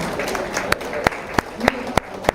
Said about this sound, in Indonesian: Tepuk tangan lagi mas lagi.